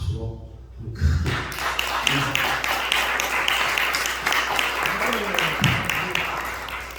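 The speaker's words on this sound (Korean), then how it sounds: "박수로 한번 크게" Congregation bursts into loud, sustained applause at a pastor ordination service in a church, starting abruptly after a quiet moment and continuing as dense clapping with occasional thuds and murmuring voices.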